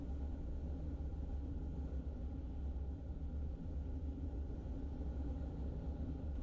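A car heading east on Pleasant Lake Road, a rural Michigan road, heard from inside as a steady low engine and road rumble, even and unbroken throughout.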